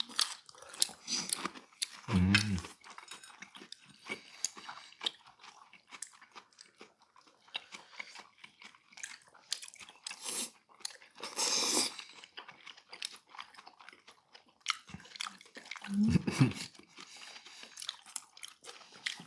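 Crunchy bites and chewing during a meal of salmon sushi and salmon salad, a few loud close crunches at intervals with quieter mouth sounds between, no talking.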